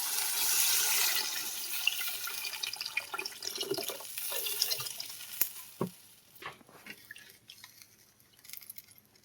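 Water is poured from a tap into a pan of fried cumin, coriander and tomato spice paste for fish curry: a loud gushing rush at first, then tapering into splashes, stirring and scattered drips.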